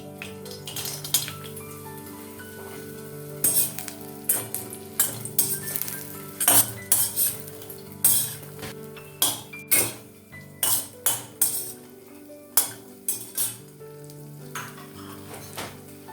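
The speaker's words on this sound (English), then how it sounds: "First I'll fry the boris and keep them aside." Lentil dumplings (boris) frying in mustard oil for a Bengali mixed-vegetable dish, a steady close sizzle with repeated sharp clinks and scrapes of a metal utensil against the pan.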